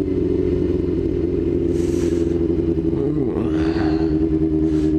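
Motorcycle riding on a road in Japan, a steady continuous engine drone with a brief swelling pass partway through, close and loud throughout with no talk.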